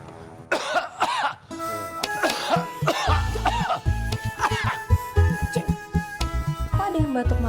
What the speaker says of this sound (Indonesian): Kok ada yang batuk malam-malam sih?